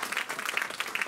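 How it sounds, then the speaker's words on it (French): A church congregation claps in acclamation for the Lord during a French-language sermon: a short burst of fast, scattered hand claps from a crowd, moderately loud and brief. "Donnons quand même une acclamation au Seigneur."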